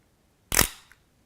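A single crisp camera shutter click, close and clear, with a faint mechanical tail in an otherwise quiet setting.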